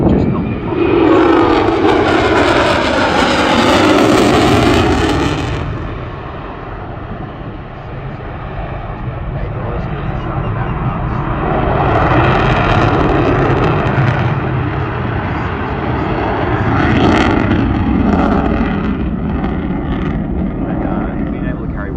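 Military stealth jet roaring past at the Newcastle air show, a loud, rushing roar that swells, fades and surges again across the pass, with wind buffeting and a commentator talking over it.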